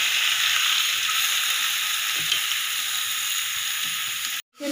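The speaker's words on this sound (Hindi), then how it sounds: "मेरा घी गरम हो चुका है, इसको स्लोली फ्राई करेंगे।" Chopped carrots fry slowly in hot cow ghee for carrot halwa, a steady close sizzle with faint stirring bumps before a sudden cutoff.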